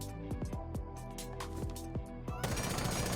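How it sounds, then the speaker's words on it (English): Automatic rifle fire in a video game, three full magazines emptied in quick succession: dense, rapid bursts of close, loud shots with brief gaps between strings, ending in a sustained volley. "First, I will shoot 3 full magazines."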